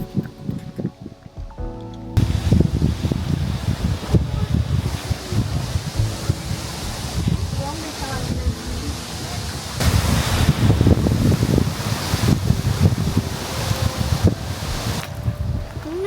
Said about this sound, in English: Wind is picking up like crazy out here.